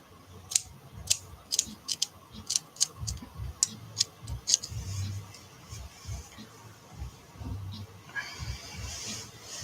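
Scissors trimming material for a gila monster craft, with a quick series of about a dozen crisp, close snips in a steady rhythm, then quieter handling and rustling.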